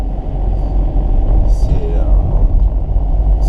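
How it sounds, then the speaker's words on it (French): A Volkswagen Golf 4 car towed behind another vehicle on a tow bar through small village roads, with a steady loud road rumble and engine drone throughout and a brief hiss midway. "Là je suis en train de remorquer la voiture avec une barre."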